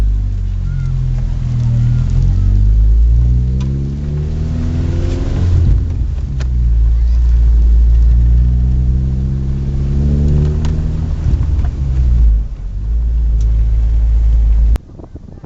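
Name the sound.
manual car pulling away and accelerating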